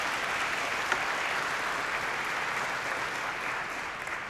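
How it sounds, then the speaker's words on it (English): Steady crowd applause at an educators of color celebration event, heard as a dense, even wash of clapping at moderate distance, fairly quiet and unbroken. "So how about a round of applause for Delquan?"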